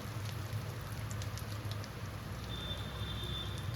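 Dried red chillies sizzling in hot frying oil already used for prawns in a Bengali kitchen, a faint, steady crackling hiss with no voices.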